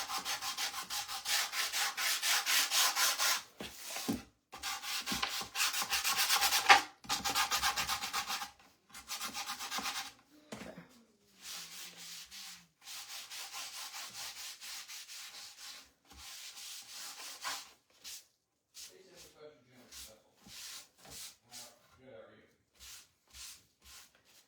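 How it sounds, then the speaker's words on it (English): Hand sanding on a painted wooden tray with spring bunny lettering, a steady scratchy rubbing in long bursts at first, then shorter intermittent strokes with pauses, close by and fairly loud. "I'm gonna sand a little back here"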